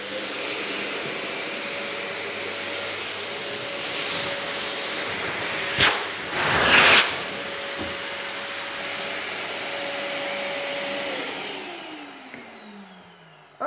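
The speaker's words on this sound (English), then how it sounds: "plug it into an electrical supply, and you can then go away and dry your bike" A Bruhl MD1900 bike dryer blower runs with a steady, loud whooshing roar and a constant motor whine, its pitch sliding down near the end as it spins down, with a couple of brief bumps partway through.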